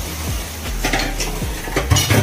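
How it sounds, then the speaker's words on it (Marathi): A spoon stirs masala into a thick onion, tomato, ginger and garlic paste in a pan, making repeated scraping sweeps and soft clinks over a low background sizzle. "छान मिक्स करून घेऊ"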